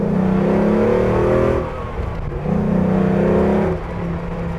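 A 1949 Ford F1 pickup with a swapped Coyote V8 and manual transmission, raised two inches, revs hard through the gears, with a loud steady engine drone that drops as it shifts, climbs again and drops once more.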